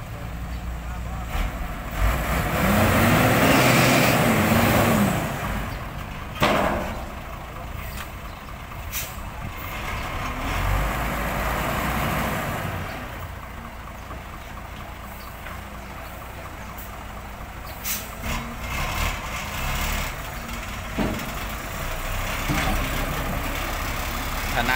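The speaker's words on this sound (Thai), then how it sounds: "ขนาด10ล้อยังติดเลยครับ6ล้อนี่ไม่ต้องพูดถึง รอดูคันต่อไปครับ ถอยยาวมาแล้วครับ" A ten-wheel truck stuck in slippery mud, its engine droning and straining as it reverses, with hiss and rumble rising and falling over about twenty-five seconds, people talking at times.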